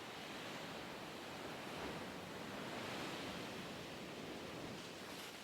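Storm waves break and surge against the shore at Livadia in Crimea, a steady, loud roar of churning surf and spray that fills the whole stretch without pause, with no voices.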